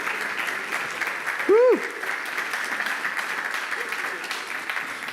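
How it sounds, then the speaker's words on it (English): A room full of people gives a round of applause at a startup founders event, steady close clapping throughout with one voice cheering loudly partway through. "There we go. Round of applause."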